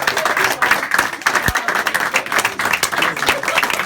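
A small indoor group claps and cheers during a farewell gathering, a dense patter of applause with mixed voices over it and a single low thump partway through.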